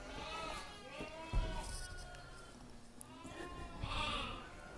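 Sheep on a rural village farm bleating in short, faint calls from a little distance, with someone talking quietly over them.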